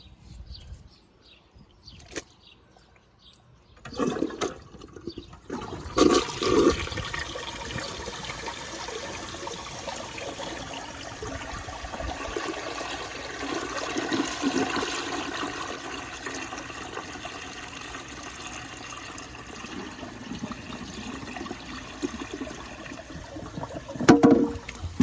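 Flush of a 1971 American Standard Cadet toilet clearing a dish towel, with a few faint knocks and clicks, then a loud rushing swirl of water that drains and refills steadily, ending with a sharp squeak.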